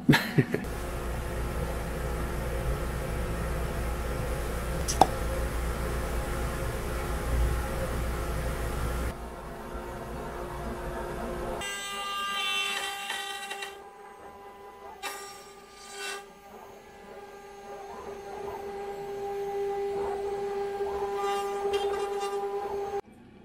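An Axiom Precision CNC router with a 4th axis making a rough-cutting pass with a 1/4 inch bit: a steady droning hum with tonal whine, then changing spindle tones and intermittent cutting noise, moderately faint, no talk.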